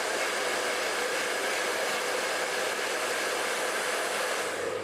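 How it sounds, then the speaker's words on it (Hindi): A hair dryer blows steadily and loudly without a break while hair is styled into curls with a ceramic brush, the airflow forming a constant close whoosh with no voices. "जो बालों के एंड्स है ना उस पर अच्छे से ड्रायर होना चाहिए"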